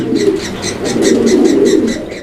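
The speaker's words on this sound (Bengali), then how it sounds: "ডাক দেখেন কবুতর" A racing pigeon cooing close by, a steady run of soft pulsing coos repeating about every quarter second, with no talk.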